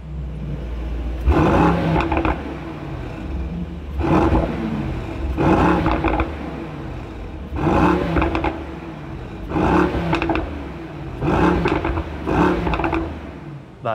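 A Mercedes-AMG GT63 S engine in Sport Plus mode is revved about six times in a row, each blip a deep, throaty roar that swells and falls back to a burbling idle, loud and close.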